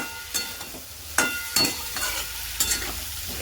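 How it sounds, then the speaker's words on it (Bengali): Potatoes for a vegetarian aloo dum are sautéed with spices in a pan, with a soft sizzle under several sharp, irregular scrapes and clacks of a stirring spoon. "আমার কিন্তু আলুর দমের আলু কষানো হয়ে এসছে"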